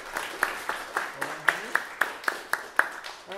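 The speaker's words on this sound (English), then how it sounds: "So Ronan, round of applause." Audience at a school fine arts assembly clapping in a steady, evenly spaced rhythm of sharp claps, close and fairly loud, with a voice briefly audible underneath.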